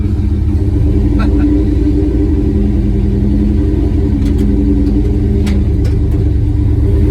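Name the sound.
LS-swapped car engine starting and driving off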